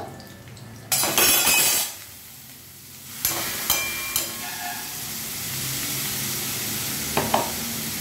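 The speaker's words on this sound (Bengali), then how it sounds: "ডালিয়াটা দিয়ে এবার আবার কিন্তু আমাকে ভালো করে ভাজতে হবে" Broken wheat (daliya) with green peas frying in a pan, with a burst of sizzling followed by a quieter stretch, then scraping stir strokes and light clinks over a steady low hiss.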